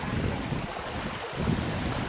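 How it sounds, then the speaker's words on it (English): Waves wash on open water at a scenic dam, a steady broadband rush mixed with wind buffeting the microphone, fairly close and without voices. "It's like biggest waves."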